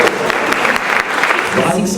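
Audience applause at an awards night in Saint-Claude honouring local champions, a dense steady patter of many hands filling the room, with voices mixed in.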